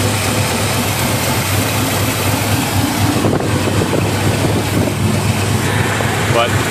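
A 1980 Chevy mud truck with a bored 350 V8 and an RV-type cam idles steadily nearby, a loud continuous low rumble with wind buffeting the microphone throughout.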